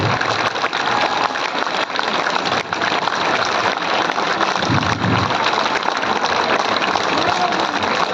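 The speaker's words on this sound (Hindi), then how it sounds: "ताली, जोर से ताली बजाइए।" A large political rally crowd in Patna applauding, loud, sustained and dense clapping that continues unbroken for the whole stretch, with a faint hint of voices in the mix.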